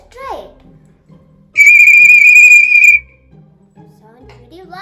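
Large, heavy antique tin toy bird-call whistle blown once in a loud, steady shrill tone of about a second and a half, with quiet voices and handling noise before and after.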